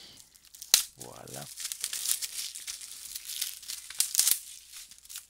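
Plastic film crinkling as a 4K Ultra HD Space Jam movie case is unwrapped, with close crackles and a couple of sharp snaps, and a brief spoken word in the middle.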